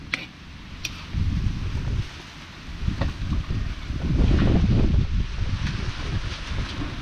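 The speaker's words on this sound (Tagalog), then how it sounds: "ang hmm, lakas ng hangin" Strong wind buffets the microphone in heavy low rumbling gusts that swell and fade, with a few faint clicks in the background.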